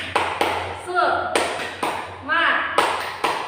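A primary school class performs the tepuk semangat chant, sharp rhythmic claps in a steady pattern alternating with chanted voices, close and lively in a classroom.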